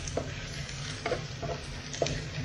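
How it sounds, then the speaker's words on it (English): Long beans stir-fry with garlic and onion in a hot pan, a steady loud sizzle broken by several scraping stirs of the spatula, with no voices. "in English you can just call it like stir fry long bean"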